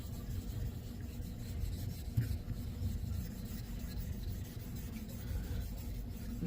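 Japanese kamisori straight razor being honed on a Mikawa Nagura whetstone, a steady, quiet, gritty rubbing and scraping that continues evenly throughout, close up with no talking.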